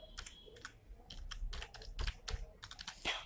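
Computer keyboard being typed on while entering a spreadsheet formula, a quick irregular patter of close, crisp key clicks in short bursts, quiet and alone without talking.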